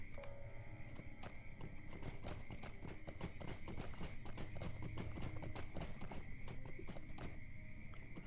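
Horse hooves in the Lord of the Rings Online video game clip-clop at a steady walking pace, with an occasional whinny, under faint ambient game noise.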